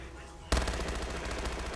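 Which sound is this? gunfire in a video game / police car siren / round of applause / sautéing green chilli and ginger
gunfire in a video game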